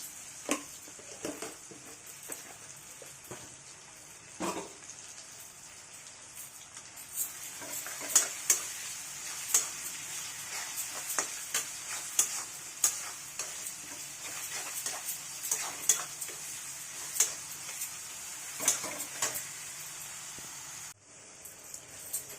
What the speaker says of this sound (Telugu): ఇదంతా బాగా ఫ్రై అయిపోయింది కదా